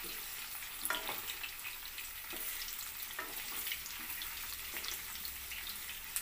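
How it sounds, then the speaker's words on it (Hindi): Potatoes frying in a pan for dhaba-style dum aloo, giving a steady broadband sizzle with faint stirring clinks throughout, no voices. "मैंने पोटैटोस को पैन में डाल लिया है, अब हम इसको गोल्डन ब्राउन होने तक फ्राई करेंगे।"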